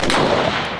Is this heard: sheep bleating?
no